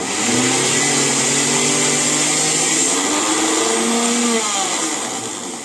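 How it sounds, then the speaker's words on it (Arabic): A loud, close kitchen blender grinder grinds food into a dough-like paste continuously, its motor whining steadily with shifting pitch before easing off at the end. "مطحنة الخلاط هي اللي بتطحنها اهي"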